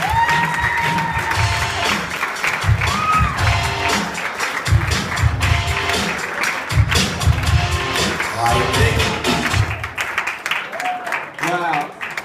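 Audience applause at an education awards ceremony fills the whole stretch, dense clapping mixed with voices and some thumps, loud and continuous.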